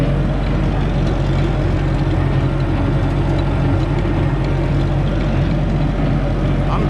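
A rebuilt bush hog rotary mower runs with a steady, loud, low mechanical drone and no gearbox chatter, continuous throughout.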